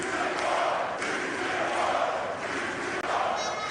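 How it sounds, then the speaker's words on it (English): Wrestling crowd at an MLW Slaughterhouse match between Mistico and Ultimo Guerrero roars and cheers steadily for nearly four seconds, a dense, loud arena wash with no clear talk over it. "This crowd erupting at a hit for Mistico."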